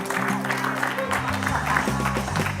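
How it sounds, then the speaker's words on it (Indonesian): A studio audience at a comedy talk show claps for a performer in a brief burst of applause, mixed with sustained background music tones. "Tepuk tangan buat Natasha."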